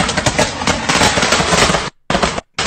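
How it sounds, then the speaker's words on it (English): Fireworks burst in a dense, loud, rapid crackling barrage, with two brief gaps of silence near the end. "Bro busting back with the fireworks."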